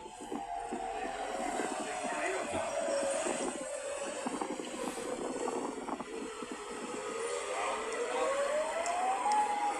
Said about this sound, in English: How did they add a dual tone siren?